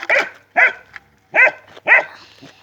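Kangal puppies bark in four sharp, high-pitched yaps with brief pauses between them, close and loud, with no talking.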